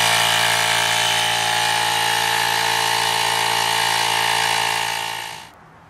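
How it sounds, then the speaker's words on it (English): An Auto Joe 24-volt cordless portable air compressor inflates a fitness ball, a loud, steady mechanical drone with strong tonal hum that runs continuously, then winds down and stops. "You're not supposed to use air compressors to inflate fitness balls."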